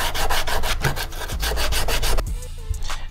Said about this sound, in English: And now we can sand it back.